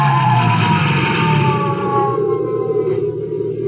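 A sheriff's car siren wailing with a sustained, slightly wavering tone, loud and close, fading a little toward the end.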